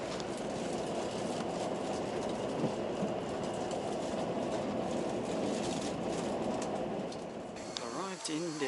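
Slow train running on rails on a trip to Daegu, Korea, a steady rumbling drone of the moving carriage with low clatter throughout and a brief change near the end.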